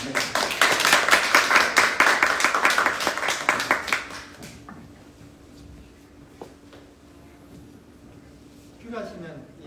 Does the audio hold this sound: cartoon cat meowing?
no